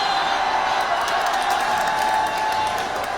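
Basketball arena crowd reacting to a layup at a live game in the Philippines, a dense continuous roar of voices and scattered clapping holding steady throughout, loud and close.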